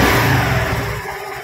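A Honda Activa BS6 scooter engine revs loudly and steadily close by, the buzzing note holding strong for about a second before easing off and dropping away, with no voices over it.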